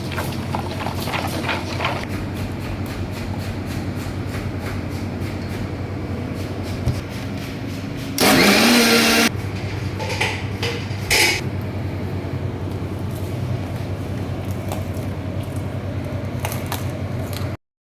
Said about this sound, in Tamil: மிக்சியில் போட்டு ஒரு 2 அடிக்க போகிறோம்